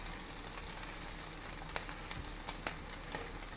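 Ham and cheese fry in a pan, a soft continuous sizzle with a few faint stirring taps, quiet and close with no voices.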